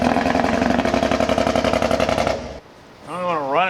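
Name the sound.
supercharged 2019 Camaro SS engine running badly on few cylinders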